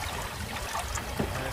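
Water poured from a jar into a marinade for chicken aboard a small trailer sailboat, a brief close trickle and splash with no talking.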